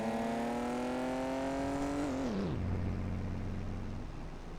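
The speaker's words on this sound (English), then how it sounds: "Blimey, rev that engine." A vehicle engine in Farming Simulator 25 revs high and steady, then its pitch drops sharply into a lower, even drone, loud and close throughout.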